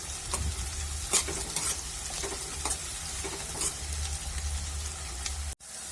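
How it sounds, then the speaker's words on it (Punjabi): Ingredients for a methi and aloo sabzi frying in a pan, a loud close sizzle with repeated scraping stirs throughout, ending in an abrupt cut. "ਸਾਰੀ ਵਿੱਚ ਪਾਵਾਂਗੇ ਇਹਨਾਂ ਨੂੰ ਬਰਾਊਨ ਹੋਣ ਤੱਕ ਭੁੰਨਾਂਗੇ"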